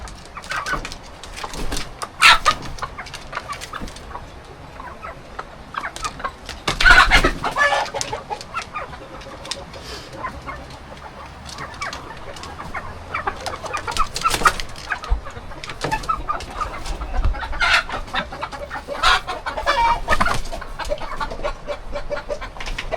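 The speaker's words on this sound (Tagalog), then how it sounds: "Buhay ng manok at bibi guys." Chickens cluck steadily over a busy farmyard background with ducks, with bursts of louder fowl calls now and then; no talking.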